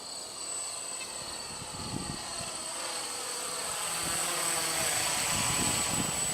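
An RC GPS quadcopter, a 6-axis eight-channel 2.4 GHz X8 model, flies forward with a steady high-pitched motor whine that swells slightly louder as it passes, with no voices.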